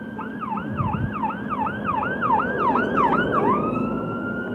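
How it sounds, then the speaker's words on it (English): A wailing siren cycles rapidly up and down, loud and close, over a rumbling engine, shifting to a steady tone at the end as it passes. "Ambulance."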